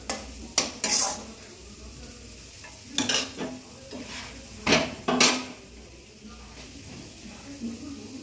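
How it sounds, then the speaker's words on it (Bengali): Finely chopped potatoes fry in a pan, with a low sizzle under repeated sharp metal clinks and scrapes of a spatula stirring against the pan. "দেখো এই দেখো আলু ভাজা করছি"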